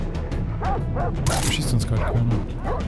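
Dogs in the video game Far Cry 3 yip and bark in short bursts while someone talks over them in German.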